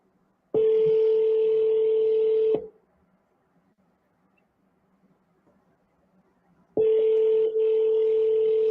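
A telephone tone sounds twice, in two steady electronic bursts of a couple of seconds each separated by quiet, as a call is placed to a contest winner. The tone is loud and close, with no speech.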